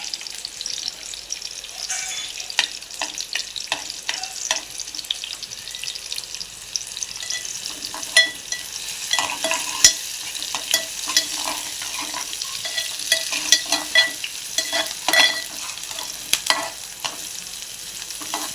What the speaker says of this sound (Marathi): मोहरी टाकूया मोहरी चांगली टाकू बघा